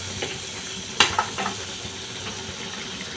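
Onion and capsicum go into hot butter in a pan, a close crackling sizzle that jumps with a sharp burst about a second in and then settles into steady frying.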